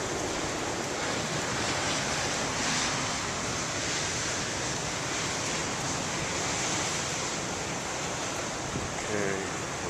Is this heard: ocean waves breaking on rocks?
yes